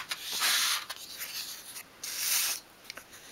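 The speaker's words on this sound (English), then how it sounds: "just sweep the sandpaper along at an angle and go onto the underside as well" Fine sandpaper sweeps at an angle along the edges and underside of a miniature 1/12 scale wooden kitchen work table, heard as close, soft rasping strokes in several uneven bursts with short pauses, and no talk.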